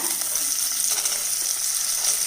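Loud, dense sizzling of chopped large onions frying in hot oil, a constant crackling hiss close by with no talking.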